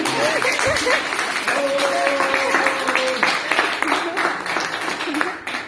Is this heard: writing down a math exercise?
no